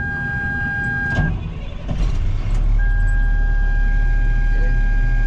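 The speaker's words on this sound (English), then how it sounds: "At this time, I'm going to turn my engine on." A large diesel truck engine cranks and catches, then settles into a loud, steady low rumble that continues to the end.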